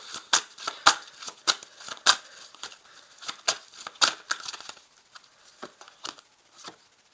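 Tarot cards shuffled and drawn, a run of crisp, close riffling flicks and slaps in quick irregular bursts that thin out toward the end.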